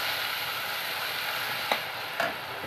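Ginger-garlic paste fries in a pan for an Odia ridge gourd curry, giving a quiet, steady sizzle with a couple of brief stirring clicks and no voices.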